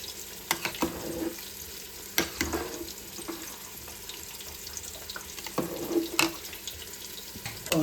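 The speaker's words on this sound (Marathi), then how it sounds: "तर आता आपण भाताचं पाणी काढून घेऊ" Water being drained from partly cooked rice for a homemade chicken dum biryani, a steady close splashing pour with brief louder gushes and clatters against a pan or sink.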